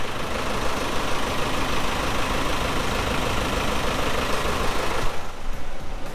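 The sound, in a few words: diesel engine idling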